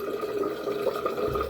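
Water running steadily from a bathroom tap during wet shaving, a continuous rushing stream heard close and alone.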